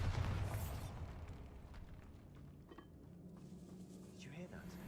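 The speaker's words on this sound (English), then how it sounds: "Bombarda!" A Bombarda spell explosion in a magic video game booms at the start, then its rumble decays under faint ambient noise and quiet voices.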